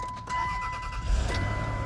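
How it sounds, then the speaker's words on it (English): A 2002 Land Rover Freelander engine turns over and catches, a steady low rumble with a brief surge of revving about a second in, holding close and loud to the end. "Let's see if it'll fire up."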